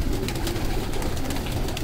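A Jonsra female pigeon coos softly in a few low throaty pulses, close by, against a steady background hiss.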